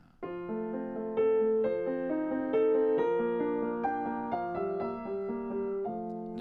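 A piano plays a gentle, connected melodic phrase over sustained chords, moderately loud and close, with no speech.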